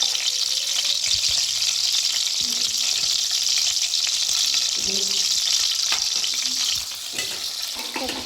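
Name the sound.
chillies frying in hot oil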